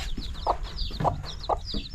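Chickens cluck in short repeated bursts close by on a farm, with softer chirping from newly hatched chicks underneath and no talking.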